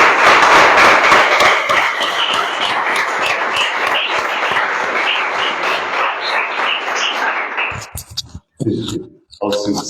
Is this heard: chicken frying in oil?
no